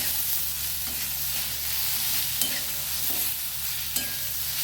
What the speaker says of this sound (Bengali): সবজিটা ভাজা ভাজা হচ্ছে।